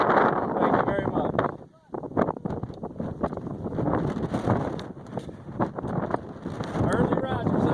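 Strong wind on the Appalachian Trail buffets the microphone with steady low rumble and gusts, briefly dropping off once before roaring back, with voices faintly mixed in.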